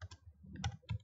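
Quick keystrokes tapped on a computer keyboard while entering a Linux command, a faint, close burst of several soft clicks in an uneven rhythm over about a second, with no voice.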